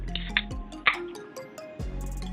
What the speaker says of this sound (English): I'm gonna go ahead and pour this in there.